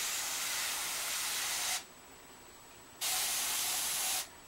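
An airbrush sprays paint in two sustained bursts of close, steady hiss separated by a short pause, with no one talking.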